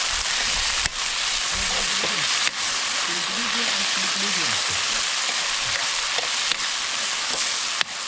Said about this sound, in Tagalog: Prito na oh